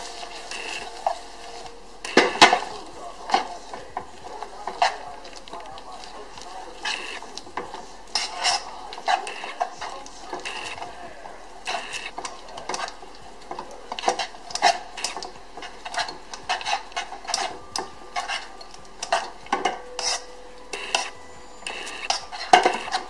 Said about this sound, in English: Can't let it burn, you gotta stir it fast